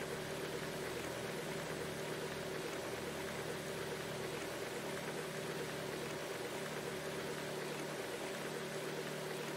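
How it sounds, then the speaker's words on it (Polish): A magnetite separator runs in Gold Rush: The Game, a steady mechanical hum and engine-like drone with faint rattling, even and continuous at low volume with no talk. "Ok, odpalamy separator magnetytu."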